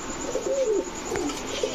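Female Hungarian Budapest pigeon at a pigeon seller's, giving soft repeated coos close by against a steady background hum.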